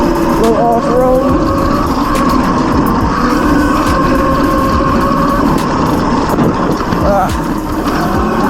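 Electric dirt bike riding off-road on a cold day near a frozen lake, a steady loud whine and rush of motor and wind noise throughout, with a voice speaking over it.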